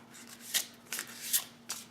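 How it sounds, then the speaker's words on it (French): Oracle cards being shuffled by hand, heard as four quick papery riffling bursts evenly spaced over a low steady hum, close and clear with no talking. "on va tirer une carte de murmure de guérison"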